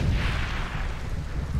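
Grenade blast in the video game Far Cry 2, a deep rumbling boom that fills the moment and rolls on with a low, sustained roar and no voices.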